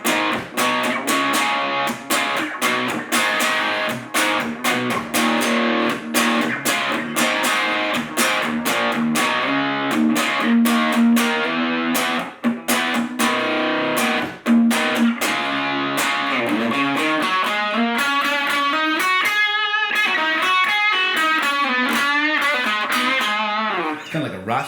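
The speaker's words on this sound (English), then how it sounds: "here is the distortion sound" Distorted electric guitar played through a Caline Lorcan portable battery-powered practice and busking amplifier, with strummed chords and rhythmic stabs, then sliding bends near the end, loud and continuous with no talking.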